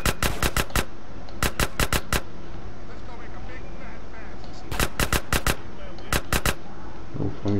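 Bursts of rapid gunfire in GTA San Andreas, coming in several tight volleys with pauses between them over a steady background rumble.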